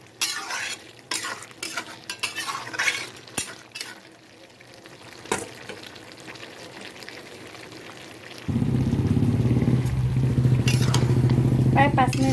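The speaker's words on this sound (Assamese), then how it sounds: "আৰু অকণমান সময় ভাজি ল'ম" Chicken frying in a pan starts as clatter and stirring, then becomes a steady, loud sizzle for the last few seconds, with a person talking throughout.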